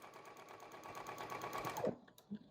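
A sewing machine stitches the edge of a cloth napkin in a steady, fast mechanical whir that stops abruptly near the end. It is close and moderately loud, with no talking.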